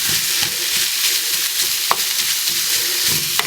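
Ground beef sizzles and fries steadily in a hot pan, with a continuous crackling hiss and a few sharper pops and scrapes as it is broken up, close and alone without talk.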